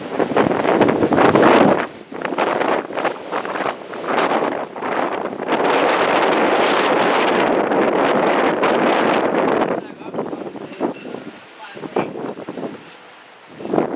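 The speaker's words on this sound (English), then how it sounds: "Woo, it's windy." Strong wind buffets the microphone in loud, roaring gusts, with a brief lull partway through, then continues more unevenly with rustling.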